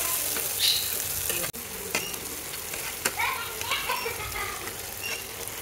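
A ripe red tomato fries in a pan of oil for prawn curry, a steady soft sizzle broken by a few sharp stirring scrapes and clicks, fairly quiet and close.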